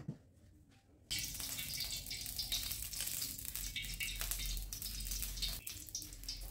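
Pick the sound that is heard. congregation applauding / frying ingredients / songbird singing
frying ingredients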